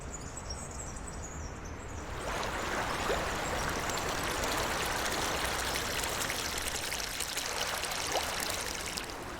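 Steady, full rush of water from the Túria river, starting quieter and swelling into a continuous broad flow after a couple of seconds, with no voices.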